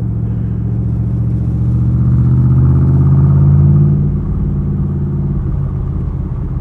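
A 1966 Chevrolet Corvette with the L79 327/350 V8 and four-speed manual drives along, its deep, loud engine rumble swelling steadily under load and easing slightly near the end, with no talking.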